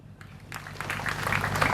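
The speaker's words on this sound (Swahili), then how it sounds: "naomba hebu tuwape makofi" Applause from a crowd at a memorial gathering, scattered clapping that builds and thickens into a steady patter over a low hum.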